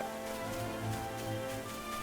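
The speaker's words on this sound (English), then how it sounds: "Sure is rain." Steady rain falls in the Octopath Traveler video game, a soft continuous patter with a faint musical tone underneath and no voices.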